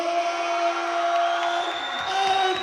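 After a boxing bout, a crowd cheers and whoops in a sustained, loud roar of voices with ringing tones, and someone speaks beneath it.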